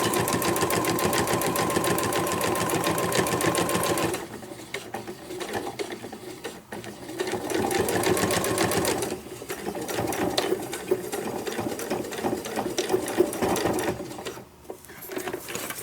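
A sewing machine stitches a fabric sewing roll in rapid mechanical bursts, running steadily for about four seconds, then pausing and starting again in shorter runs, close and clear with no talking.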